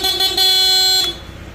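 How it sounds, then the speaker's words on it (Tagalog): A car horn sounds loud and close in two short blasts, a brief toot followed by a longer steady honk, then stops. "Busina."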